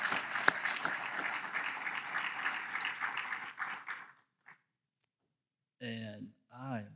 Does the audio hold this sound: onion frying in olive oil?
no